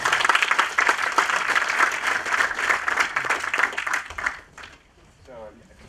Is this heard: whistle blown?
no